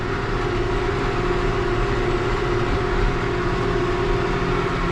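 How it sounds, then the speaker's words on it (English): Steady rumbling and clattering of a train rolling past close by, continuous and loud with no voices. "There's a train that's going by."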